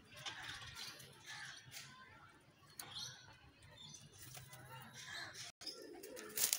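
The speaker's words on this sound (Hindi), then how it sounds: "ये कबूतर है जी" Caged pigeons of a fancy breed offered for sale, giving soft, low coos and rustles close by amid faint background noise.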